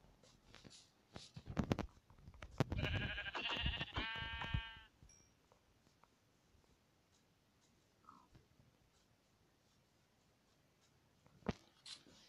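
A sheep in a blocky survival game, likely Minecraft-style, lets out a short, loud bleat in the middle of scattered clicks and taps, then near silence with a few faint tapping sounds.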